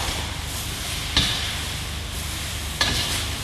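Vegetables tossed with an onion soy marinade in a hot pan for soy ginger beef, with a steady sizzle and stirring. Two sharper scrape-like bursts of the toss stand out near the start and end, with no talk.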